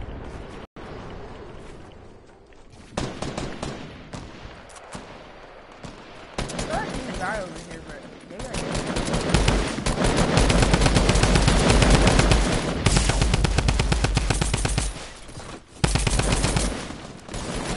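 Guns fire in the Bandwagon video game in dense, rapid bursts of automatic fire that rise and fall across the stretch, often under a player's talk.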